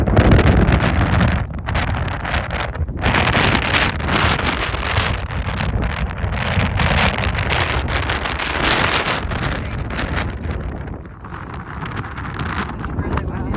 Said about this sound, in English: the winds are so strong